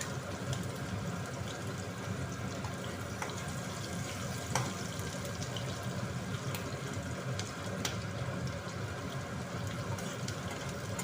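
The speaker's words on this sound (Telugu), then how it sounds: "సరిపడా వాటర్ కూడా పోసుకోవాలన్నమాట ఫ్రెండ్స్" Water pours steadily into a pan of upma, a continuous hissing, faintly sizzling stream holding at an even level throughout with occasional small clicks.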